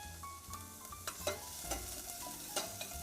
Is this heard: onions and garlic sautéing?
yes